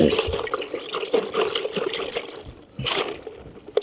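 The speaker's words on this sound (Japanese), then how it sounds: "そしてジャブジャブっと揺すってしっかり血抜きしてやります" A freshly caught horse mackerel is shaken back and forth in water to bleed it, giving quick rhythmic sloshing and splashing bursts up close, with a brief pause before a final louder splash.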